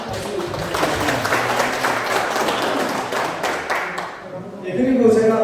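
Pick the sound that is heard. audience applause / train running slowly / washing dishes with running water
audience applause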